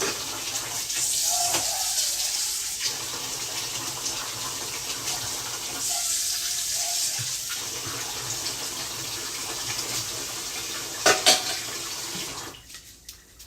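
Hot tap water runs in a steady, hissing rush, close and fairly loud, briefly dipping twice as the stream shifts, then a few clinks before it stops near the end.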